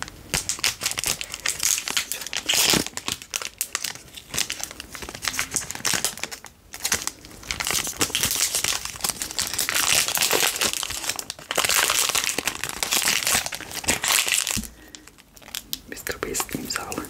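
Foil and paper wrapper of a MrBeast Feastables chocolate bar crinkles close up in dense, repeated bursts of rustling for most of the stretch, with a few brief pauses and soft talk in between.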